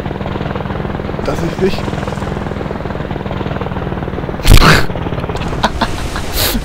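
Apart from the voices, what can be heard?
helicopter in video game Operation Flashpoint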